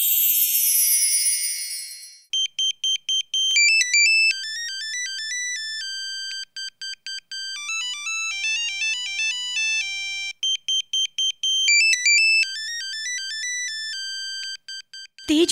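A mobile phone rings loudly with a bright, melodic electronic ringtone that plays a repeating tune of quick beeping notes for many seconds, alone in the room after a brief hiss at the start.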